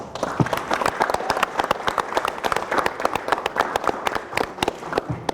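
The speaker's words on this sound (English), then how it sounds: "So I think they definitely deserve a big round of applause." A crowd of individual claps rings out for school officials at a high school softball letter-of-intent signing ceremony, sharp and distinct hand strikes in an uneven, lively burst.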